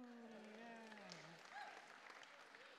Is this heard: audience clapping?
yes